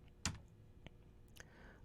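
A computer keyboard is typed on during a network switch trunk configuration lab: a few faint, scattered key clicks with one sharper tap, in a quiet room with no talking.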